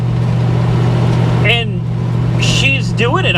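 A 1973 Plymouth Scamp, a flood-damaged car, drives along with a steady low engine hum and road rumble while someone talks loudly over it inside the cabin.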